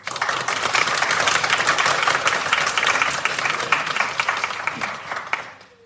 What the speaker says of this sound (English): One big clap for them.